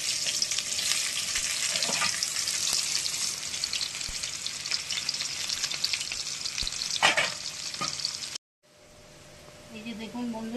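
Kochu lati and onion sizzle and crackle in hot oil, a dense steady frying hiss that cuts out briefly near the end and then returns more softly. Someone talks over the cooking.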